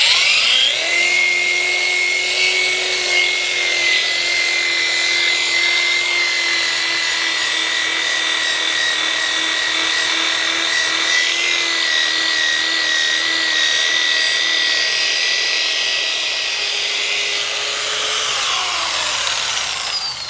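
A high-pitched power buffer polishing the paint of a Honda GL1500 motorcycle whines steadily and loudly throughout, its motor pitch wavering slightly as it works, with no speech.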